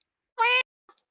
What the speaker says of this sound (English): I heard that cat.